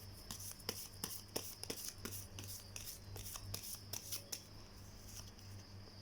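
Tarot cards are shuffled close by, with quick papery riffles and taps repeating in short bursts over a low steady hum, quiet and with no speech.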